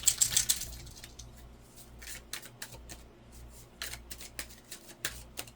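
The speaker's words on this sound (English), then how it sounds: "Get back to shuffling here" Cards are shuffled in quick, crisp riffles, then a series of lighter taps and flicks follows at an uneven pace, close up.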